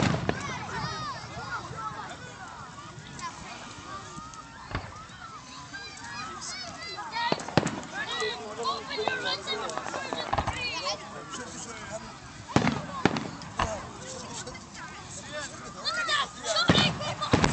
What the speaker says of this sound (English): they got fireworks over there in the colony too, Sam.